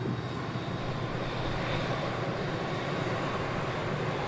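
A TUI Boeing Dreamliner departs Manchester Airport, its engines a loud, steady broadband roar that holds at an even level throughout, heard from a distance with no voices.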